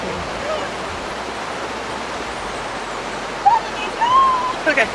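A river in Dominica rushes in a constant, broad roar heard close by, with people briefly talking near the end.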